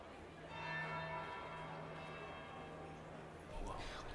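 A church bell tolls in Dragon Age Inquisition, a resonant ringing tone with a long fading hum that sounds faint and distant beneath a character's voice.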